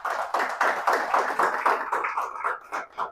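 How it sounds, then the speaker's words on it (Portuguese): A small church cell-group audience claps together in quick, uneven bursts of hands, fairly close and unaccompanied by speech, the rhythm loosening and thinning toward the end. "Vamos aplaudir a Jesus."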